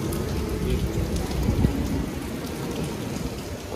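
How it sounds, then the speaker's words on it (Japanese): Very heavy rain in Sendai pours in a dense, steady roar, loud and close, with a faint low rumble beneath it and no voices. "雨が今ね、雨降ってて、めちゃめちゃ降ってるんですよ。"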